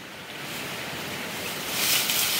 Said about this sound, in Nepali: ढुङ्गा मुनि मुनि छिरेर पानी बगिरहेको रहेछ कानेरबाट पलाएको पनि थाहा छैन तर यहाँ पानीको चाहिँ आवाज आइरहेछ ठुलो